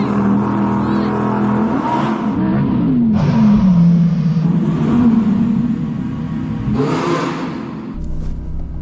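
Four-wheel-drive and rear-wheel-drive Audi R8s drag racing on snow, engines revving hard and rising in pitch through the gears, loud and continuous with brief shifts.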